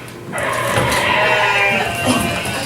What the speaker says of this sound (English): Damn sheep! Get out of the road!